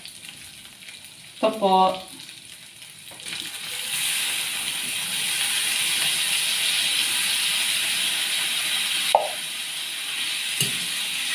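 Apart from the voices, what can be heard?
mushrooms added to hot pan, sizzling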